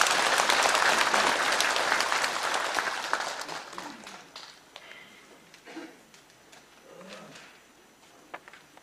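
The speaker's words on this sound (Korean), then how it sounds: "뜨거운 박수를 부탁드리겠습니다." An audience at a National Assembly forum in Korea gives warm applause, loud and dense at first, then thinning out to scattered claps and faint murmuring.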